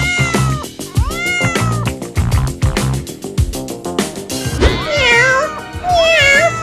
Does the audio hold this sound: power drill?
no